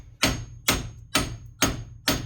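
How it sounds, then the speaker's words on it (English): Five heavy hammer blows on a Chevrolet Impala wheel hub during wheel bearing removal, each sharp metallic strike evenly spaced about half a second apart and ringing briefly, loud and close with no talking. "just smack this with a hammer on this side, on the top, on the side from behind"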